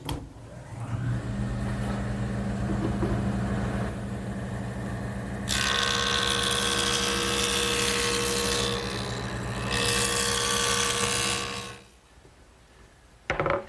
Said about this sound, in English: the next thing I want to do is joint this back edge so that it's straight and square